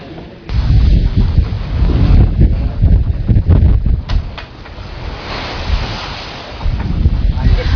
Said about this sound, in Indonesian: lokasi saya berdiri ini adalah di perairan Laut Jawa